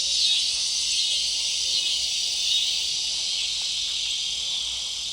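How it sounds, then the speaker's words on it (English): A dense, continuous high-pitched drone of insects and frogs trilling together, steady and loud without pause, like a nighttime chorus. "All the frogs and crickets and night bugs."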